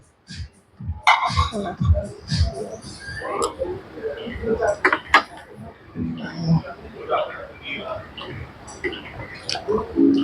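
Light clinks and taps of a spoon against a plate while raita is eaten alongside a cold drink, scattered irregularly and close by, under steady conversation.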